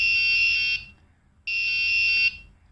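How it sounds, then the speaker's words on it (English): An ultrasonic-sensor security alarm buzzer gives two loud, steady, shrill electronic beeps of under a second each, separated by a short gap of near silence. "When I bring my hand in front of this sensor, the alarm will go on."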